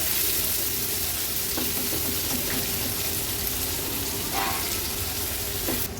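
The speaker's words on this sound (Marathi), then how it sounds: "गॅसची फ्लेम लो करून लो फ्लेमवर कांदा शिजवून घ्यायचा।" Finely chopped large onion frying gently on a low gas flame for Maharashtrian chana dal zunka, a soft continuous sizzle close by with occasional light stirring taps and no talk.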